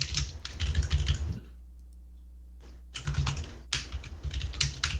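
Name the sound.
typing on a computer keyboard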